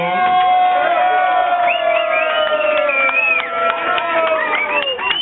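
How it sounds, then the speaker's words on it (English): A crowd at a DJ club night cheers, whoops and claps for the security staff, loud and close, with shouting voices layered over music throughout. "can you give the security a round of applause?"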